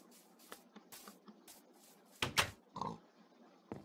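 A pig in the Minecraft video game grunts a few times at close range, mixed with small shuffling game sounds at low volume.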